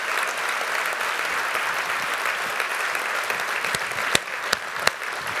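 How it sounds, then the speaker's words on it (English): A room full of people claps steadily, a dense wash of applause with a few sharper individual claps standing out near the end. "Give them a big round of applause."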